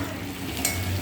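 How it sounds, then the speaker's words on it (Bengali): Onion sizzling in a frying pan on a home stove, a steady close crackle and hiss with a couple of brief stirring scrapes near the end. "পেঁয়াজটা ভাজা অবধি অপেক্ষা করব।"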